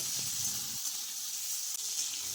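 Steady, crackling sizzle of flat beans and radish frying in hot oil with turmeric and salt, close and continuous, with a brief stirring scrape partway through.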